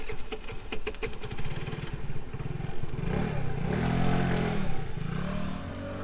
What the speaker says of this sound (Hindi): मेरे पास एक स्कूटर है, हम उसी से चलेंगे।